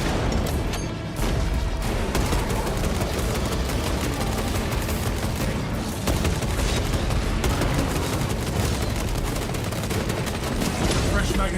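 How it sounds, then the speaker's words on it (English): Frag grenade thrown and exploding amid dense, continuous gunfire and booming blasts during a Warhammer 40k Space Marine battle, with no clear standalone detonation among the steady loud combat din. "Throwing frag grenade."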